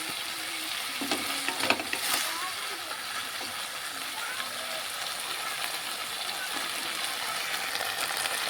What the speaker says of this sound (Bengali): আর সর্ষে বাটাটা একটু কষিয়ে নিচ্ছি